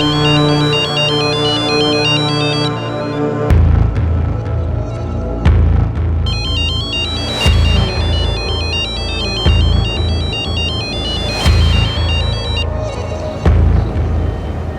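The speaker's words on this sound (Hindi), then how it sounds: "ये रे तेरा फोन है।" A mobile phone ringtone plays loudly and continuously in a home, a bright repeating electronic melody punctuated by regular deep booming beats, with no talking over it.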